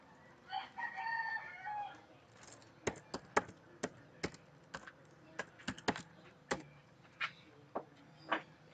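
Typing commands on a computer keyboard: sharp, separate key clicks in an uneven rhythm, close but quiet, after a short burst of muffled sound at the start.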